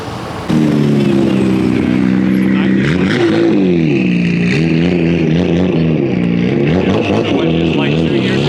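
A Mazda RX-7 Spirit R drives past, its loud engine droning steadily near the microphone and shifting pitch as it moves, with people talking over it.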